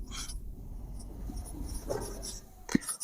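Marker or chalk strokes scratch across a classroom board in short, close bursts during a coordinate geometry lesson, with a sharp tap near the end and no talking.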